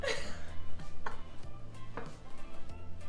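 Knife chopping garlic cloves on a board, a few sharp taps spaced about a second apart over a steady low background hum.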